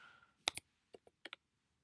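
A handful of crisp computer keyboard keystrokes typed while entering measurements, close and fairly quiet: a quick double tap, then two pairs of separate clicks with brief pauses between them.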